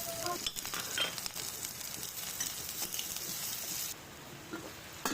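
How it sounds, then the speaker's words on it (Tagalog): Plenty of ginger and onion sautéing in oil in a pan, a fairly quiet continuous sizzle with light stirring scrapes that drops lower near the end. "Kabilang pan naman ay dito na ako magigisa ng maraming luya at sibuyas"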